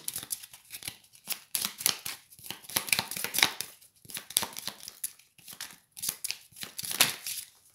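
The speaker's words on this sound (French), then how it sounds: "je vais tirer 3 cartes" Tarot cards are shuffled and drawn by hand in a quiet room, a run of crisp, papery riffles and slides coming in quick uneven bursts, close and fairly soft, with no voice.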